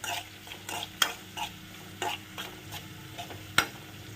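Onions frying in a pan with a pinch of salt, sizzling steadily while a spoon scrapes and stirs, several sharp clacks of metal on the pan standing out over the hiss.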